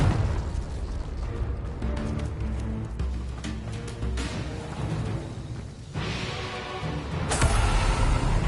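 A Confringo blasting spell explodes in the Hogwarts Legacy video game amid loud, dense combat noise, with a sharp burst near the end over continuous rumbling game sound.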